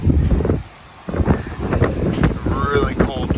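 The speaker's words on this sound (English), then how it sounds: "As you guys can hear, it's kind of windy." Gusty wind of an approaching storm buffets the microphone with low rumbling roars, dropping briefly before returning, while a person talks over it.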